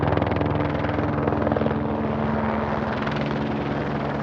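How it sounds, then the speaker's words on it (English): Rescue helicopters fly to an air crash site high in the Andes, their rotors making a loud, continuous thudding drone that stays steady for the whole stretch. "The helicopters flew to the 14 people still at the crash"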